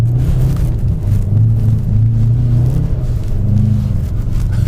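A 700hp BMW M5 drifts around a bend on a snowy road, its engine a loud, close, steady low rumble with slight pitch rises as it holds the slide.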